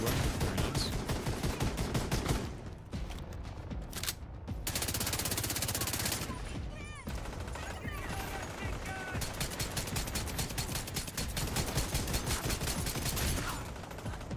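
Gunfire and grenade blasts in the video game Division 2, dense bursts of automatic fire with brief pauses, loud and close throughout.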